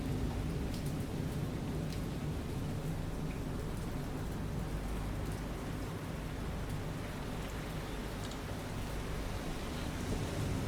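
Steady rain pouring in the naval video game War on the Sea, a dense, constant hiss of rainfall with faint low thunder rumbling beneath, no voices.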